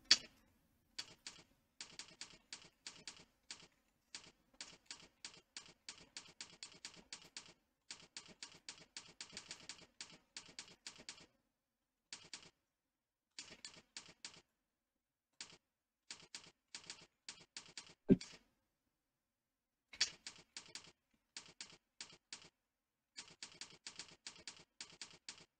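Typing on a computer keyboard in quick bursts of clicking keystrokes, separated by short pauses, close and fairly quiet.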